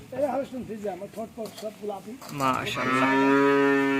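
A voice talks briefly, then a cow on a Bangladeshi cattle farm lets out a long, loud, drawn-out moo close by.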